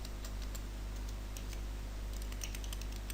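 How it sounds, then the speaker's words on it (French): Light, rapid keystrokes on a computer keyboard while a web address is entered, faint clicks sitting over a loud, steady low hum and hiss. "dans notre navigateur on va taper localhost / info facile"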